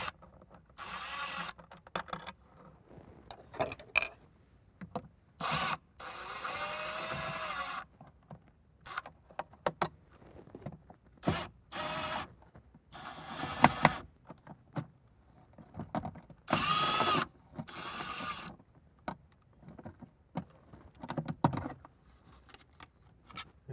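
Screws are removed from a speaker grille in a 1997–2006 Jeep Wrangler TJ with a power screwdriver, heard as repeated short whirring bursts separated by pauses and small handling clicks, close and fairly quiet.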